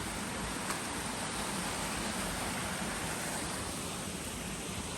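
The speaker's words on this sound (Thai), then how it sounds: "แต่เสียงน้ำนี่ก็อาจจะดังหน่อยนะทุกคน" Loud, steady rush of stream water flowing through a forest after rain, a dense continuous roar filling the whole clip with no gaps or voices.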